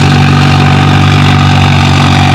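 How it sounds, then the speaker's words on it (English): Farmall tractors, a Farmall C and a Farmall 200, pull at a spring tractor pull near Othello, Washington, with a loud, close, steady engine roar that runs unbroken and heavily saturated throughout. "that Farmall C is pulling against this Farmall 200."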